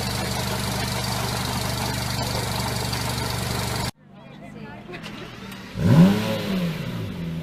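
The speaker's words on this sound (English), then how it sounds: "This is the sound of a 500." A Fiat 500 engine runs with a steady, loud drone, then drops quieter before one quick rising rev swells and falls away, with a voice faintly present.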